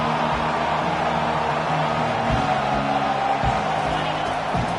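A college football stadium crowd roars steadily behind the defense on a big third down, a dense continuous wall of cheering with a few low thuds, loud and close throughout.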